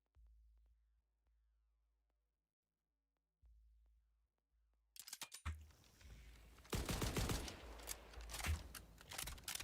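Jacob shotguns fire in a video game: after several seconds of near silence, a sudden run of loud, rapid gunshot blasts and clattering bursts fills the rest of the clip.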